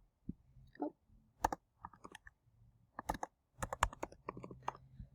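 Fingers tap out a password on a computer keyboard, with quiet, irregular keystrokes arriving in small bursts and pauses, close to the microphone and with no talking.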